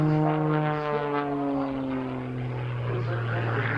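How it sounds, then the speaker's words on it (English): A high-performance aerobatic propeller plane at an airshow in Geneseo, New York, roars steadily and loudly, its engine pitch sliding gradually downward as it manoeuvres, heard alone without voices. "This airplane can do things that virtually no other aerobatic plane could do."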